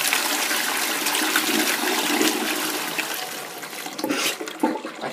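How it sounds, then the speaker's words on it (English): Toilet flushing close up, a loud rushing surge of water that fades slightly, then gurgles and sputters as the bowl refills. "I can feel the toilet struggling."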